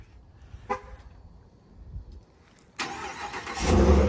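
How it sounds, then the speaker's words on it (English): Quiet clicks and shuffling give way to a 2024 Ram 1500 pickup truck engine cranking and roaring to life, growing louder and steady at the end. "Let me start it up first."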